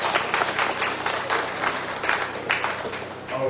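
Applause breaks out among a congregation at a Sunday mass in Sainte Anne Cathedral, a steady wash of many hands clapping that keeps going without a break, moderately loud and roomy.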